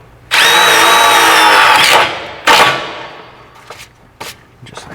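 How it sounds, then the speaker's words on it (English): A power drill driving self-tapping screws into a steel side step bracket on a van in a workshop: one loud, steady whine of about two seconds, then a short second burst, followed by faint clicks and handling noises. "start with this bracket right here. We have our self-tapper. Make sure not to over tighten them."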